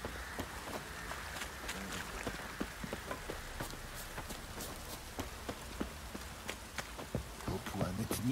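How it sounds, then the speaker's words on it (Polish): Rain falling in The Witcher 3: Wild Hunt game world, a faint steady patter with scattered sharp drop taps and light footstep-like clicks, low in level throughout. "Opłanetniki nam deszcz zsyłają."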